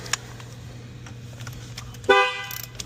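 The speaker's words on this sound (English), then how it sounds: "Honk honk." A brand-new Chevy Blazer's horn gives one short honk near the end, clear and close, rising over a low steady hum in a quiet workshop.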